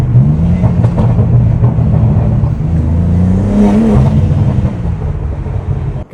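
A BMW M3 revs hard and accelerates, its engine loud and close with a steady roaring drone that rises and surges near the middle before easing off at the end; no one speaks.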